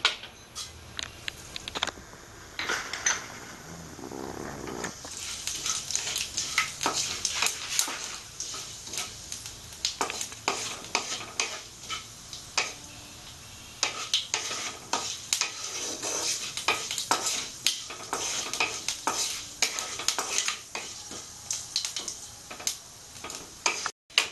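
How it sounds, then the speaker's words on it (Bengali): Panch phoron spices sizzle and crackle in hot white oil in a pan, a steady close frying hiss dotted with small pops and a few utensil scrapes, as the start of cauliflower singara filling. "তরকারিটা করার জন্য তেলটা গরম হয়ে গেলে আমি পাঁচ ফোড়নটা দিয়ে দেব"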